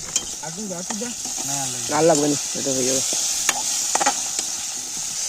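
Potatoes fry in a pan at an outdoor picnic, giving a steady bright sizzle throughout while people talk close by over it.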